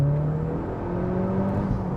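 A Volkswagen Golf MK4 Anniversary accelerates hard, its engine note climbing steadily in pitch over two seconds, heard loud and close from inside the car.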